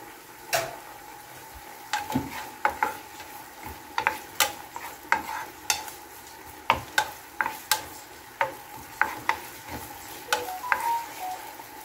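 Garlic and onion sauté in a frying pan under a soft sizzle, punctuated by frequent sharp clinks and scrapes of a utensil against the pan in an uneven rhythm.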